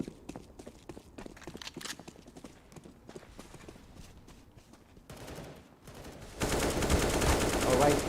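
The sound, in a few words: gunfire spray from a video game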